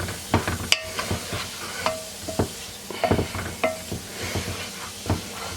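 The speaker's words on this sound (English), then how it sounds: "I'm going to clarify that, saute that a little bit" Vegetables sauteing in a skillet for hamburger pie, a soft sizzle under repeated scraping and tapping of a utensil stirring against the pan, close and uneven in rhythm.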